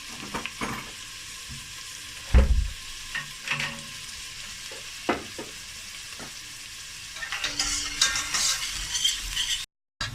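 Lentils, onions and ginger sizzle steadily in a hot pan while a spoon stirs and scrapes in irregular bursts, with a few louder knocks against the pan.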